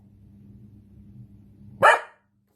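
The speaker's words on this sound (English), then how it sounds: "Thank you, Penny the dog" Penny the dog lets out one sharp, loud bark near the end, after a low, quiet hum, and then everything falls silent.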